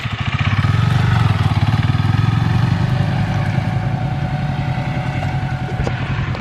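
A 2020 Kawasaki Z650 motorcycle engine runs loud and close with a steady, throbbing exhaust drone, revs easing slightly as it rides on.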